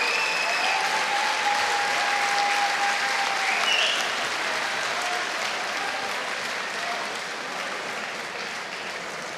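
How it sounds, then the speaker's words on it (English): A boxing arena crowd applauds both fighters after a twelve-round bout. The loud, sustained clapping fills the hall, with a few whistles cutting through, before it slowly eases off toward the end. "let's get a round of applause for both warriors who gave it everything here tonight."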